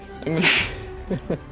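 A single sharp, breathy sneeze in a quiet room, brief and fairly close, with a few words of speech just before and after it.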